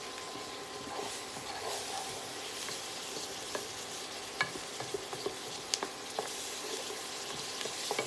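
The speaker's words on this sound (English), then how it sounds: "Sweating those onions down" Onions sweat gently in a pan with a faint, steady sizzle and occasional soft stirring clicks, quiet and close, with no talking.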